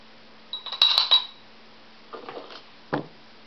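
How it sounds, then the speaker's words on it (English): A spoon scooping peppermint sugar scrub into a washed glass baby food jar: a few light clinks and scrapes of metal on glass, close up in a quiet room, in short bursts with pauses between. "I'm going to go ahead and spoon the scrub into this"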